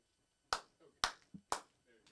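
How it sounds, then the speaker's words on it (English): Three sharp, close hand claps spaced about half a second apart in a quiet room, each a crisp isolated smack with faint murmurs between them. "Maybe one clap."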